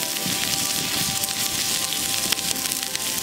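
Onion and green chili fry in hot oil for a mutton kothu dish, a steady dense sizzle with scattered crackles and pops, close and continuous.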